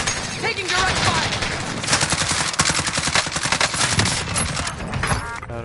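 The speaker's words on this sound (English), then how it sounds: "Taking direct fire!" Direct gunfire in the video game Warzone: dense, loud bursts of automatic fire crackle almost nonstop through the whole stretch, close and punchy, with a few sharper single shots standing out.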